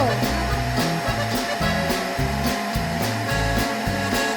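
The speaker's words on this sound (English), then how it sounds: "The vacuum moves around the room as if taking a walk." A cartoon vacuum cleaner in a Peppa Pig episode runs continuously with a steady droning whir, overlaid by a rhythmic bouncing musical pattern and repeated soft thumps.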